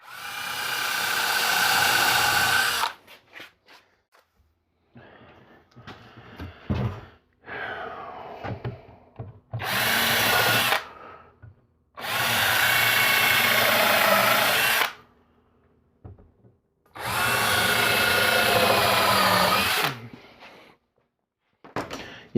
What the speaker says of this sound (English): When I go to try to drill this in, the drill doesn't fit.